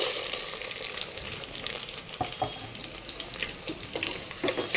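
Chopped onion frying in oil in a pan for a vegetable dalcha, a steady close sizzle and crackle with soft stirring ticks, no voices.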